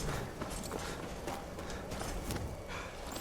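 Horse hooves clip-clop in a steady, even trot in the video game Skyrim, with close, rapid beats running through the whole short stretch.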